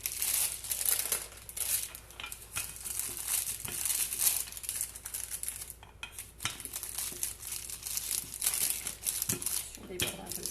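Sheets of baking paper crinkling and rustling while cracker dough is rolled between them, with intermittent crackles and soft knocks as a person talks over the work.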